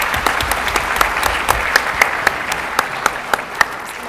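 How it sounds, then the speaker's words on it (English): Conference audience applauding panel speakers after a question session: steady, dense clapping with sharper individual claps standing out, sustained and fairly close throughout. "let's give the ladies a lovely round of"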